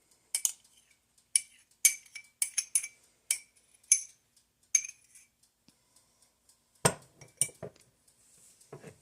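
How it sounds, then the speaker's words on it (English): Spoonfuls of leftover spaghetti sauce scooped into a bowl: a series of sharp, close clinks of a utensil against dishware, spaced irregularly with brief quiet gaps between them. "So I'm gonna scoop it in the bowl."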